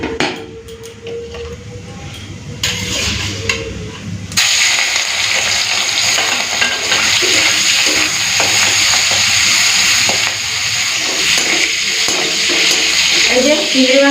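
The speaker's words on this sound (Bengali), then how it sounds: "তেলটা ভালো করে গরম করে নিয়েছি। প্রথমে চিংড়ি মাছটা ভেজে নেব।" Prawns frying in hot oil in a pan give a loud, steady broadband sizzle that builds after a few seconds and holds, with a voice talking over it near the start.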